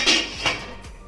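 A metal idli steamer pot holding water is set down with a couple of short clanks and scrapes, close and fairly loud, with no talking.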